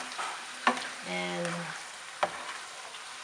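Meat frying in a pan with soy sauce and patis, a steady close sizzle with a couple of sharp stirring clacks and brief tonal clatter from the cookware; a voice speaks briefly.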